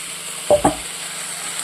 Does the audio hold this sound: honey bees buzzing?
no